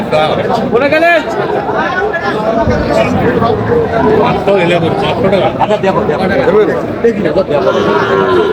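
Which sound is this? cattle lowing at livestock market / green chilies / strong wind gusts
cattle lowing at livestock market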